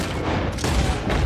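Gunfire in the Red Dead Redemption 2 video game, heard as dense, continuous volleys of shots that blur together into a rumbling barrage, loud throughout with a brief dip in the middle.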